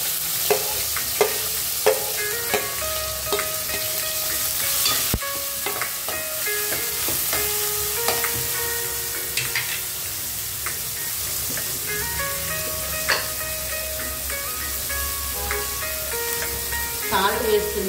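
Green chillies and onions fry in a pan for an egg and tomato curry, with a steady close sizzle, scattered utensil clinks and stirring scrapes throughout, plus a faint background voice at times.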